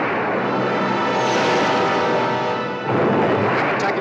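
A submarine firing weapons in the film Gorgo: a dense, continuous rushing roar that holds steady, dips briefly, then surges again.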